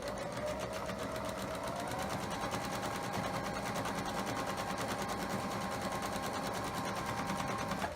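Quilt blocks are chain pieced on a sewing machine without pins, the motor humming and the needle tapping in a fast, even, continuous run, close up and without pauses or talk.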